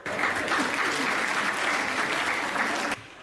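Audience at a Hindi comedy poetry recital bursts into loud, sustained applause, dense clapping held at an even level for about three seconds before cutting off abruptly.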